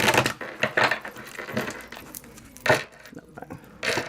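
Crisp papery flicks and riffles of tarot cards being shuffled, in quick irregular bursts with brief pauses, close by and with no talking.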